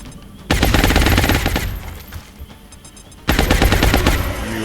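Rapid automatic gunfire in the video game XCOM: two dense, loud bursts of fast repeated shots, the first lasting about two seconds, then a short lull before the second burst.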